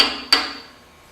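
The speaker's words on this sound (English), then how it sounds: "Machinist hammer" Two sharp metallic taps from an old machinist hammer on engine parts during an MGB engine rebuild, close and bright, each ringing briefly before fading.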